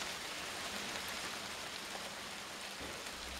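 Hail bounces off the wooden boards of a front porch during a hailstorm, a dense steady patter of many small impacts with no pauses and no voices.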